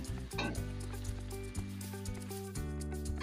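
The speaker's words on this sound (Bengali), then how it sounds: "ওই তেলের মধ্যে সেম এঁচোড়গুলো আমি একে একে ভেজে নেব ভালো করে।" Pieces of jackfruit frying in hot oil on a high gas flame, a steady soft sizzle running beneath sustained background music with no talking.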